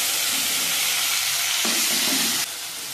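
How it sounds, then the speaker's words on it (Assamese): Potatoes fry in a little oil in a kadai wok, giving a steady, loud sizzle close to the microphone that suddenly drops quieter near the end and then continues. "সেই একেধৰণে মই কেৰাহীখনত আৰু অলপমান তেল দিছোঁ, তাতে মই আলুখিনিও অলপমান ভাজি ল'ম লাইট কৰি।"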